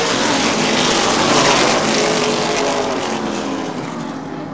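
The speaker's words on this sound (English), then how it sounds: "Down the backstretch, Tony Dagger clears Mark Mason for fifth." Late model race cars roaring around Baer Field Speedway, a loud, continuous engine drone from a close pack that holds steady and slowly fades slightly, with no talk.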